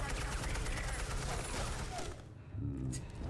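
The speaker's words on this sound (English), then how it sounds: "He shoots his own guys." Rapid gunfire bursts from Batman: The Telltale Series, a dense stream of shots with game sound and a voice underneath, briefly dipping before the firing resumes.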